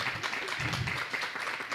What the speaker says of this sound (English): Can we give a round of applause for our young adult panel?